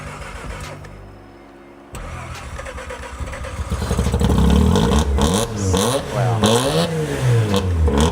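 A rotary engine with side-port intake on a JDM drift car in a workshop cranks and catches after a short pause, then settles into a loud, choppy, fluttering idle with blips of revving, close by and alone.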